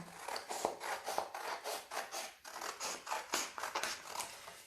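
Scissors snipping through paper for an elf hat craft, a close, steady run of crisp cuts and rustles repeating roughly every half second.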